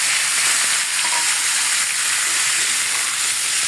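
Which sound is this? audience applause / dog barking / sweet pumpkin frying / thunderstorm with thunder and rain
sweet pumpkin frying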